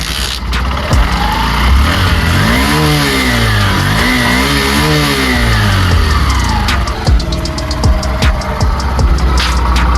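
A loud motor engine runs close by, rising and falling in pitch as it revs up and down, with clicking and rattling noises near the end.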